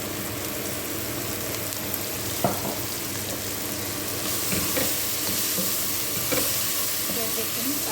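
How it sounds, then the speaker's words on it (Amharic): Oil sizzles steadily in a hot pot on the stove, a dense close frying crackle with occasional spoon scrapes and stirring knocks, growing slightly louder partway through. "ከዛ ዘይቱን እጨምራለሁ ማለት ነው።"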